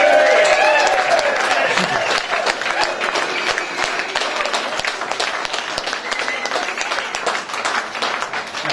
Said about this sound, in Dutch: Dus ik wou eigenlijk nog één heel groot applaus vragen voor Gewone Lieve.